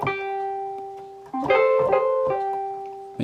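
The Kumbaya melody rings out on a keyboard as a few sustained notes, one held long before a short cluster of notes and a final held tone, played alone and close.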